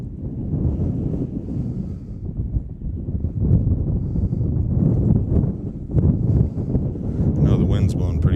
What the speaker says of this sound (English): Wind's blowing pretty good. Hopefully y'all can hear me.